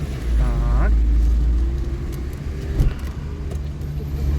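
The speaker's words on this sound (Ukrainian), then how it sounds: "Додаємо газу, рушаємо." A car on a driving-test route through the streets of Ivano-Frankivsk pulls away with a low, steady engine rumble close by. A voice is heard briefly near the start.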